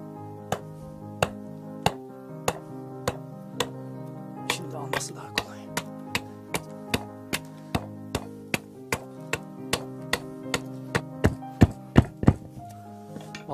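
An axe chopping 45-degree notches into a piece of wood outdoors, a long run of sharp, evenly spaced wooden strikes about every half second, close and fairly loud.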